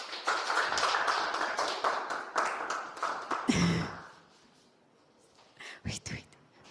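Audience applause at a 2025 women and youth green trade and digital innovation summit: steady, fairly loud clapping for about three and a half seconds, then it dies away and a few scattered sounds follow.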